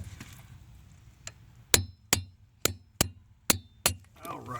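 A wrench with an extension tightens a bolt toward 40 foot-pounds during CVT transmission replacement on a 2011-2015 Nissan Rogue. About six sharp metallic clicks ring out close and evenly spaced after a quieter shuffling start.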